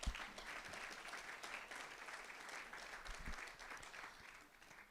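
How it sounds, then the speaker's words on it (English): Audience applause at a diversity event, a continuous wash of many hands clapping, fairly faint and distant, with a few low thumps near the start and no speech over it. "let's give ourselves a round of applause for being here today"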